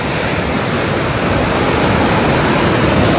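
Fast-flowing river water rushes through the Harike headworks in a steady, loud, unbroken roar of broadband noise.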